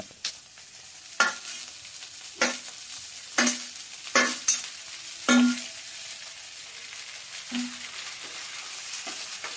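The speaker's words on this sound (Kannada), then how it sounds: "ಸ್ವಲ್ಪ ಫ್ರೈ ಆದ ನಂತರ ಅದರೊಳಗೆ ಟೊಮೊಟೊ ಅನ್ನು ಹಚ್ಚಿಕೊಂಡಿದ್ದನ್ನು ಹಾಕಿಕೊಳ್ಳೋಣ" Chopped tomato frying in a pan for an okra (bendakaya) fry, a quiet sizzle broken by several sharp spatula clanks against the pan at irregular intervals, no voices.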